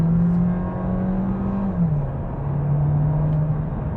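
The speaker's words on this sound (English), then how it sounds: "when you push hard on the engine, there's a bit of a loud noise coming from the engine inside the cabin" Audi A3 S Line small engine heard from inside the cabin under hard acceleration, a steady droning hum that climbs, dips briefly as revs drop, then holds again, moderately loud and close.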